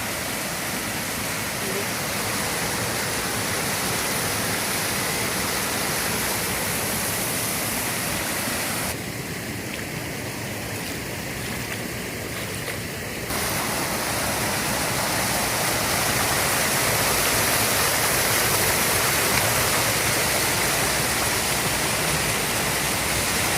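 Swollen river water near a house rushes in a loud, constant roar for over twenty seconds, briefly dulled in the middle, with no voices audible over it.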